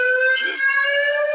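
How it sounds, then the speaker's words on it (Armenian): An ambulance siren sounds with a steady, piercing electronic wail that shifts pitch partway through, loud and close, with no voices over it. "Էնա, եկավ շտապօգնությունը։"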